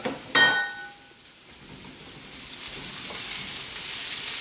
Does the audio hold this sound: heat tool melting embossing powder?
no